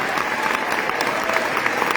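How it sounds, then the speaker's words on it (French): An audience claps steadily and densely in a hall at a live speaking event, a continuous wash of many hands at moderate loudness with no voices over it. "On peut l'applaudir s'il vous plaît."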